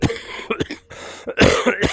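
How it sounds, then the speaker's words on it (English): An old man coughs in a VR kung fu game, several harsh close bursts with throat clearing between them. "Old man coughing."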